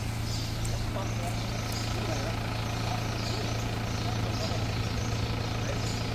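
An Isuzu Rodeo 4x4 pickup truck's engine runs at a steady, low, even drone, heard from nearby at a moderate level. Faint voices sit in the background.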